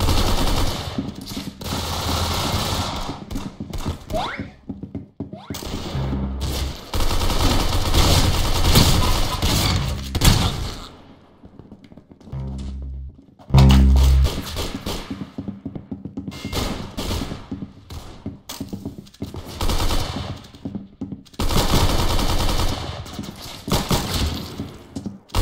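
Rapid automatic gunfire in the shooting video game Arsenal, loud bursts of rattling shots with brief pauses between them over about twenty-five seconds.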